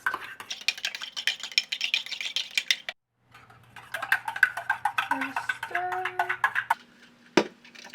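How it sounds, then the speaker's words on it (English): A metal spoon stirring hot coffee in a cup to cool it, making fast, steady clinking rattles that stop briefly and then resume, close up, with a voice speaking. "I just grab a spoon and I stir it a lot until it becomes cold"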